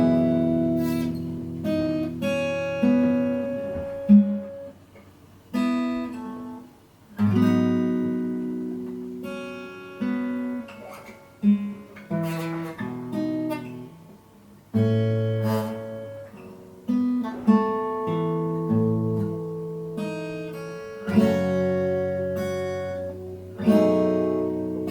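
Fingerstyle acoustic guitar playing the intro of a song, plucked notes and chords in an uneven, halting rhythm with brief pauses, close and clear with no talking.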